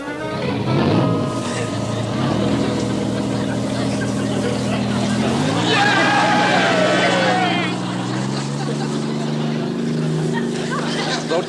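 A motorboat engine on a WWII-era PT boat runs steadily with a low, droning rumble that shifts pitch as it revs up, heard nearby under occasional voices.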